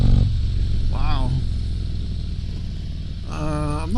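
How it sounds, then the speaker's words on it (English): A 2022 Harley-Davidson Street Glide Special motorcycle's exhaust gives a steady, low, close rumble throughout, with brief moments of voice over it. "I'm not sure if I like that exhaust sound."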